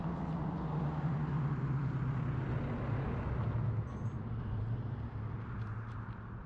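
Steady road traffic in Zion National Park, Utah, a constant low rumble of passing vehicles heard from within a car, no talking.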